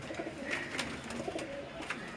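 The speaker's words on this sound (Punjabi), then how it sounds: "ਇਹ ਬਾਜ਼ੀ ਵਾਲੇ ਕਬੂਤਰ ਨੇ" Racing pigeons on a rooftop loft in Faisalabad coo steadily in a soft, continuous chorus, several birds close by with no talking.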